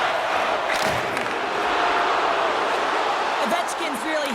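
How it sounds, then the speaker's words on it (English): Arena crowd noise in the NHL 25 ice hockey video game, a steady roaring, jeering home crowd that stays loud and continuous throughout without a break. "really hearing it from the home crowd right now"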